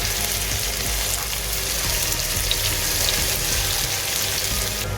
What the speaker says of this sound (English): I'll continue frying this until the onions turn nice golden brown.